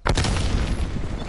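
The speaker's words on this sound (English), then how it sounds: "Enemy frag grenade." A frag grenade bursts in a first-person shooter video game, a loud broadband boom at the start followed by a sustained, rumbling roar of debris and reverberation that stays dense and heavy throughout.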